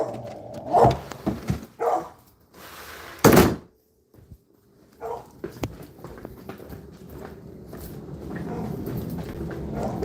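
A puppy gives a few short, sharp barks close by in a house under renovation, mixed with thumps, door knocks and shuffling, followed by a steady low rustle of background noise.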